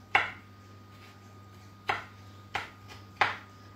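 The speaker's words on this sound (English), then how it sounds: "jalapenos are being sliced. And diced." A knife chops through jalapenos on a board, four sharp separate cuts with pauses between them, heard alone over a steady low hum in a kitchen.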